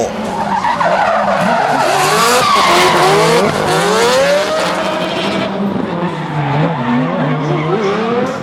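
Drift cars, a Red Bull RX7 and a Cobra Batteries S15, skid around a race circuit at a D1NZ drifting round in Whangarei, with loud sustained tire squeal over roaring engines rising and falling in pitch.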